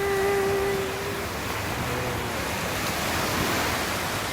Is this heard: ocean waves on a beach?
yes